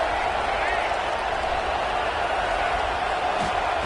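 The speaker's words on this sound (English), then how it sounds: "The crowd really making some noise now" Stadium crowd roaring in a college football video game between Baylor and Alabama, a dense continuous wash of cheering near the goal line, heard under faint commentary.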